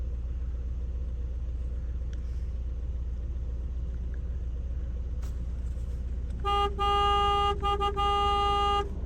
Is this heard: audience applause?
no